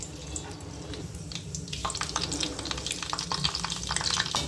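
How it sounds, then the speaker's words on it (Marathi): Mustard seeds crackle and sizzle in hot oil in a kadhai for tempering, with dense close popping and spitting over a steady frying hiss that grows busier toward the end. "मोहरी आपल्याला चांगली तडकू द्यायची आहे"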